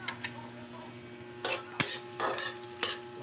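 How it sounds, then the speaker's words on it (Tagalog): A spoon stirs green papaya and smoked fish in a cooking pan, with a few distinct scraping strokes against the pan over a faint background hum and light sizzle. "Yan, halo-halo natin, mikos-mikos."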